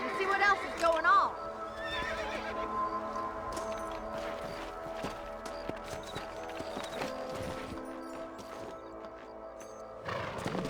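Horses whinny loudly and hooves clip-clop at a steady pace in the Red Dead Redemption video game, with another neigh near the end and game voices speaking over the riding.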